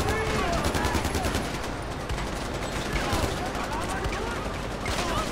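Gunfire in the war-zone shooter Far Cry 4: dense, rapid bursts of shots crackling almost without pause, fairly quiet overall.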